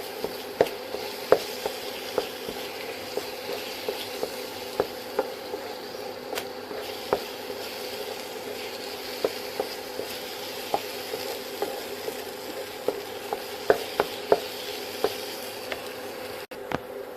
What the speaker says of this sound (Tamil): இந்த மாதிரி கெட்டியாக வர்ற வரைக்கும் நம்ம நினச்சோன்னா கிண்டிகிட்டே இருக்கணும்.